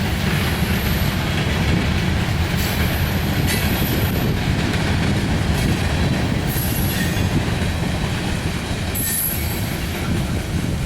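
A Reading and Northern train rolls past on the tracks in Berea, Ohio, loud and close, with steady rumbling wheels, clickety-clack and repeated high wheel squeals over about eleven seconds, with no talk.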